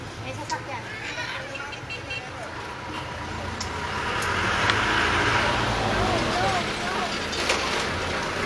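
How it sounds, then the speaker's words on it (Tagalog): A car passes along a road in the Philippines, swelling into a broad rush midway through, beneath people talking, with a faint horn toot near the end. "May sasakyan."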